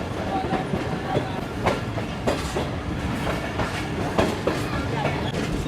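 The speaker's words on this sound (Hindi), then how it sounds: "जल्दी कूदती जा रही है हमारी ट्रेन टंडो आदम से।" Karakoram Express rolling along the rails out of Tando Adam, a continuous close rumble with repeated clickety-clack wheel beats and rattling, loud and steady throughout.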